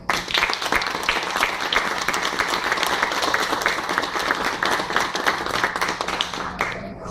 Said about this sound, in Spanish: para quienes pedimos un fuerte aplauso